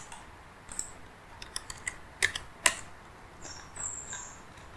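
Close, light keystrokes tap on a computer keyboard while a floor plan is entered in SketchUp, coming as a brief uneven flurry of clicks over a quiet background.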